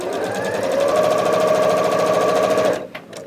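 A sewing machine runs steadily for nearly three seconds, stitching a quilt block for a schoolgirl sampler quilt, with a loud, even whirring hum that stops abruptly near the end.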